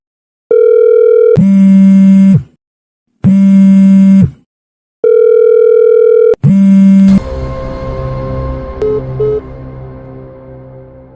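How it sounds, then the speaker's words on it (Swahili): Three long electronic ringback tones, each a steady two-part beep separated by pauses, followed by a burst of noisy sound and fading tones. "Hebu mpigie simu."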